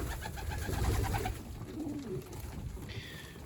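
Pigeons coo softly in a low, rumbling pulse close by, with faint rustling and background noise.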